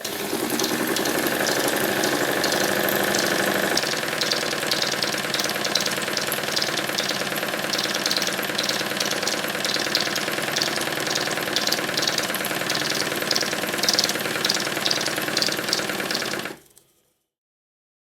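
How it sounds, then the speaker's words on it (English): Model live steam engine running steadily, a close continuous mechanical chuffing and rapid knocking beat with hissing steam, holding even until it cuts off abruptly near the end. "This time the engine starts easily by rotating it."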